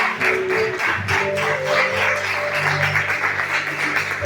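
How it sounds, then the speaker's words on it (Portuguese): A church congregation claps during a worship service, the rhythmic applause steady and fairly loud over sustained organ or keyboard tones and a low musical hum. "As palmas do Senhor."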